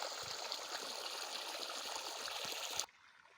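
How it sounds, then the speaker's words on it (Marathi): Steady rush of irrigation water flowing through a wheat field, a continuous splashing trickle up close, cutting off abruptly near the end. "पाणी तिथं पडायला आहे आवाज येत आहे बघा"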